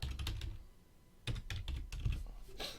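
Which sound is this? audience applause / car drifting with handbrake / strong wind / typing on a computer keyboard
typing on a computer keyboard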